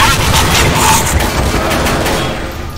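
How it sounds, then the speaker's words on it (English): Rapid gunfire from a big gun in Counter-Strike: Source, a loud continuous burst of automatic shots with dense rattling echoes, fading slightly toward the end, with no talk. "At least I get to use the big gun to attack lots of people."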